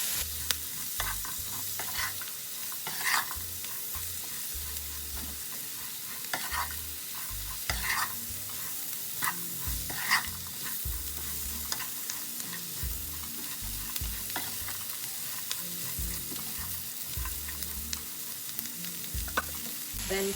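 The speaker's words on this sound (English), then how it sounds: "Then start adding the cabbage. And mix that in well." Shredded cabbage frying in a pan for a cabbage and carrot curry, stirred repeatedly with a spoon, a constant soft sizzle under irregular scraping strokes and taps, close by and without talk.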